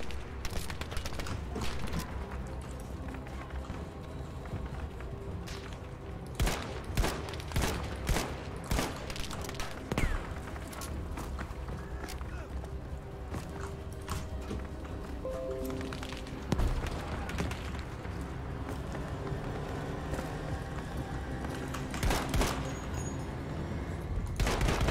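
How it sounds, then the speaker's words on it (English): Sustained gunfire in Battlefield V, with rapid shots and scattered bursts mixed with battle clatter and distant booms across the whole stretch. "I'm just firing too quickly."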